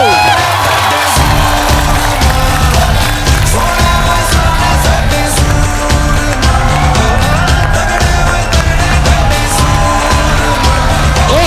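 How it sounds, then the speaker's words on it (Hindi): A studio audience on a comedy talk show cheers and applauds its sports guests, a loud, dense, steady roar of clapping and shouting that runs through the whole stretch. "जोरदार तालियां होनी चाहिए हमारे सभी प्लेयर्स के लिए"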